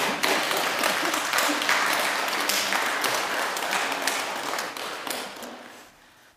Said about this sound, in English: For all of you, how about we just applaud?